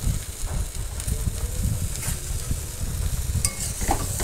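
Taro stolons fry with salt and turmeric in a steady close crackling sizzle, with a spatula stirring through it and a brief light clink near the end.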